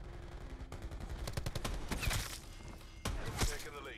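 Revolver gunfire in Black Ops 4 multiplayer, a quick cluster of sharp cracks and booms landing in bursts over a few seconds amid other game clatter, with a player talking alongside.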